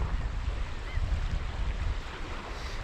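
Westerly wind blowing over open sea around a small fishing boat, a continuous rumbling gust noise with low buffeting and the faint wash of water, steady and loud without speech.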